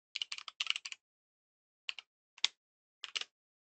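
Close, dry clatter of computer keyboard keys as code is typed, a quick burst of rapid keystrokes followed by three short, separated clusters of taps, with no talking.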